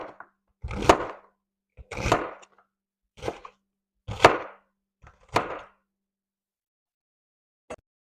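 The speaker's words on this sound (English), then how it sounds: "this is basically how you dice an onion" A kitchen knife dices an onion on a cutting board in five separate bursts of quick, crisp chopping strokes, each about half a second long, followed by a single light tap. The strokes sound close and clear, with silence between the bursts.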